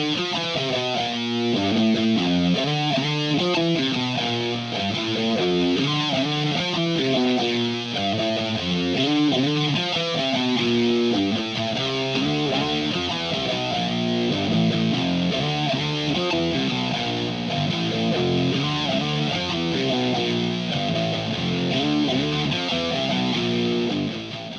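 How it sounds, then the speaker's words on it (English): Distorted electric guitar through an octave pedal adding tones one and two octaves below plays a continuous single-note riff with a thick, deep octave-doubled tone, loud and up close throughout. "this guitar pedal creates two duplicate tones, one octave below and two octaves below"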